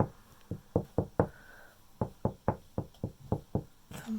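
Knuckles knock on a wall to find a joist: about fourteen sharp, close knocks in quick uneven groups, with a short pause partway through and no talking.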